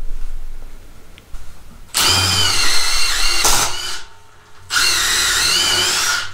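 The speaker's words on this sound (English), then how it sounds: "We're gonna be drilling a hole, see how it handles it." Milwaukee M18 Fuel 1/4-inch impact driver on speed 3 spinning a 5/16 drill bit through a hole, two loud whirring bursts of about two seconds each separated by a brief pause.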